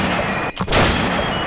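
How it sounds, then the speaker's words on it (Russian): A single sharp gunshot cracks out during a shooting exercise on a reality show, loud and close, over steady outdoor background noise. "Выстрел! Мимо!"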